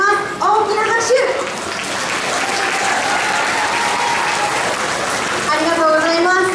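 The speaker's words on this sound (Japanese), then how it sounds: "拍手のお手伝いをお願いします。 大きな拍手" Loud, sustained clapping from a shopping-mall crowd greets a children's dance school show. Children's voices and chatter ride on top of the steady applause throughout.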